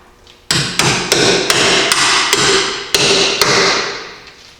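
A hammer drives a bolt through a Jeep Cherokee XJ lower control arm during a 3-inch suspension lift install, about eight loud metallic strikes in an uneven rhythm, each ringing briefly, close and with no talking.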